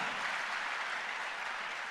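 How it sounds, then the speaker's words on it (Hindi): Audience applause at a Jashn-e-Rekhta Urdu literary festival session, a continuous, even roar of many hands clapping from a large crowd, heard at a distance and sustained without a break. "जोरदार तालियां"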